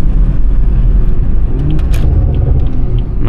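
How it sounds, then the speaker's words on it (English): A BMW M3 engine rumbles loud and close, its low growl holding steady, with a brief dip and pickup as it shifts up to the next gear; no voices. "Nice little upshift."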